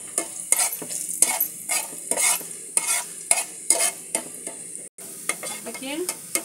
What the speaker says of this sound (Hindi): अभी इसको हम ब्राउन कलर का भून करके निकाल लेंगे यहाँ पर।